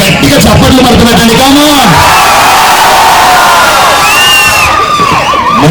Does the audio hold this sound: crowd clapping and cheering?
yes